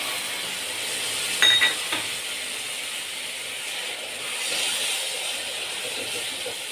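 A cup of milk poured into modak filling frying in a pan brings a broad, steady hiss and sizzle, with a short clattering burst near the start, then continuing bubbling under the quiet.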